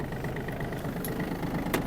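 Yanmar RS-270 mini tractor engine idling, a steady low rumble with a faint rhythmic pulse, close and continuous for a brief moment.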